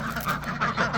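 Ducks quacking close by on a small farm while being fed grain, a busy overlapping run of calls over steady low background noise.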